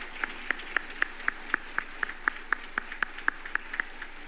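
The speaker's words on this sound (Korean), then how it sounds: "큰 박수 부탁드리겠습니다." A church congregation at a Sunday afternoon worship service claps in a crisp, even rhythm, one sharp clap roughly every quarter second, moderately faint and without voices.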